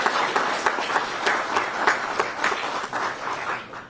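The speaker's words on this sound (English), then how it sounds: "I think that is worth applause." Attendees at a Breeze Airways announcement at Rhode Island's T.F. Green International Airport applaud, a modest crowd clapping with distinct individual claps standing out in an uneven rhythm.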